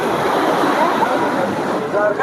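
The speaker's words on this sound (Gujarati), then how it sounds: "ઘાટ પાસે તમે જોવો કેવા મોજા ઉછળ્યા દરિયાના પાણીના।" Sea waves surge at Gomti Ghat in Dwarka, a loud continuous rushing wash of surf mixed with wind buffeting the microphone.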